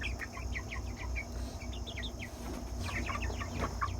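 Young chickens, a mix of hens and possible roosters too small to sex, peep and chirp in scattered bursts on a farm over a steady low background hum.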